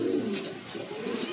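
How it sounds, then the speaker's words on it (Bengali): A pair of quality pigeons for sale gives soft, rolling coos, a low warbling call that swells at the start and repeats, close and clear with no talking. "এখানে কোয়ালিটি ফুল এক জোড়া কবুতর আছে"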